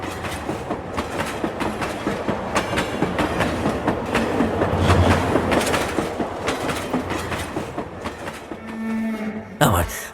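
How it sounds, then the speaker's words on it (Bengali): A mail train rushes past on the rail line at night, a steady loud rumbling roar with repeated clattering bursts across the whole stretch, ending in a brief sharp swell near the close. "দেখি সামনে থেকে ছুটে আসছে একটা মেল ট্রেন।"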